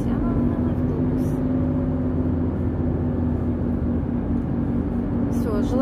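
A bus engine drones loudly and steadily nearby, a continuous low rumble with tonal hum that holds level throughout, while a voice talks over it at times.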